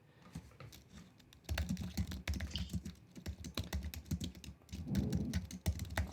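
Fast, soft keystrokes on a computer keyboard as a commit hash is typed, a continuous close clatter that starts quietly and grows busier, no talk.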